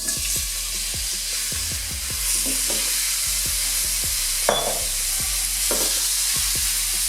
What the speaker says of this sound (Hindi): ऑयल गर्म हो गया, अब चिकन हम इसके अंदर डाल देंगे।